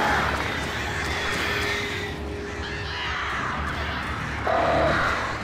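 Crows cawing in the video game Alan Wake, a few harsh caws scattered over a dense, noisy outdoor game ambience, not especially prominent and with no talk.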